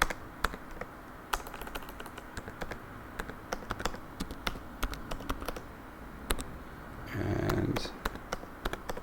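Keys on a computer keyboard tap in short irregular bursts as a password is typed, close and fairly quiet, with a brief low rumble partway through and faint talk nearby.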